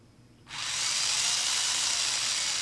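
An SGILE RC rock crawler's electric motor spins up in reverse with a sudden onset, then a steady, loud high-pitched whine holds close to the microphone with no talking.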